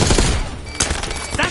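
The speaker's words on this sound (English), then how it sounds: "Under heavy fire!" Heavy rapid gunfire in Call of Duty Black Ops 6, loud and dense with a sharper crack partway through, amid battle noise.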